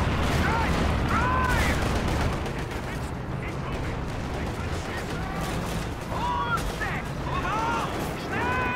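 Company of Heroes 2 4v4 battle with tank cannon fire and bursts of gunfire, continuous rumbling combat noise and scattered shots while someone talks over the action.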